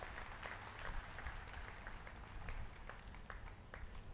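An audience at a retirement honour ceremony in Kota, Rajasthan claps to welcome Vice President Jagdeep Dhankhar, producing steady, fairly distant applause that sounds soft and slightly muffled throughout.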